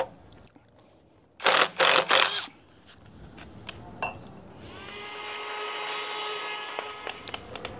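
A GDX 200 impact driver drills masonry with a widia bit: three loud, close bursts of hammering, then a sharp knock, followed by a quieter, steady whine with scattered clicks.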